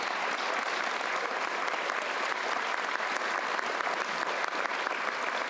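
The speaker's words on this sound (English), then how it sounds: "A huge round of applause." Sustained applause from a large crowd at an annual meeting, steady and dense clapping throughout with no pauses.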